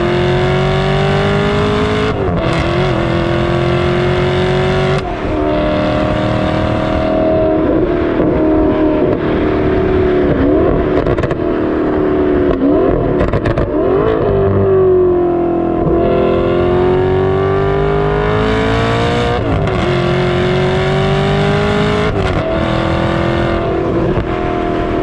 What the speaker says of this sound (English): So in at number two is the incredible, exceptionally special Alfa Romeo 8C Competizione.